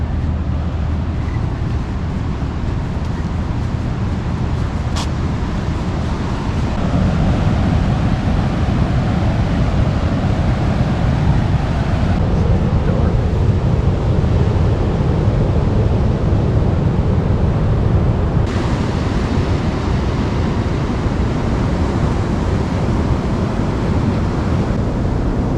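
Ocean waves on the Oregon coast at high tide roll in as a steady, broad roar of surf for the whole stretch, blended with some wind noise on the microphone and no talking.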